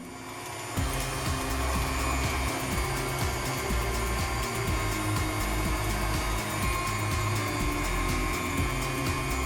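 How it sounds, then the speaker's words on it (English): Electric mixer running steadily through sweet potato pie filling, a constant close whirring drone that picks up slightly in speed and stays loud with no pauses. "Now I'm gonna turn up the mixer just a little bit so we can remove some of these lumps."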